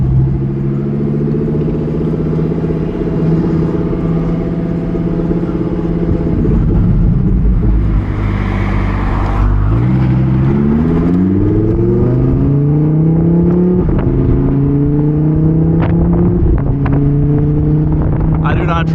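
A Lamborghini Huracan EVO Spyder engine in Corsa mode revs loudly and close, climbing through gears with distinct shifts and renewed rises in pitch, with wind noise and some speech alongside.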